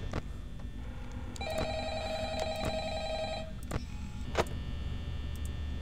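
In Five Nights at Freddy's, the office telephone rings a sustained electronic trill for about two seconds, surrounded by sharp clicks and thumps over a constant low hum.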